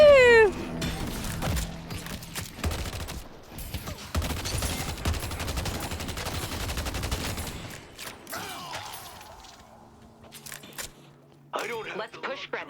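Rapid volleys of gunfire crackle through a hero-based video game match, dense and busy for several seconds before thinning out, with a player talking over the shots.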